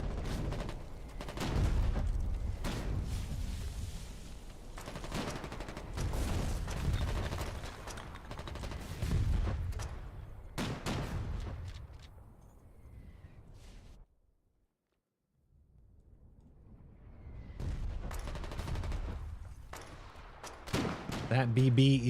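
Bombing runs in the war game Foxhole bring repeated bursts of gunfire and heavy explosions. They come in dense, overlapping waves, pause briefly into near silence, then start again, with speech mixed in.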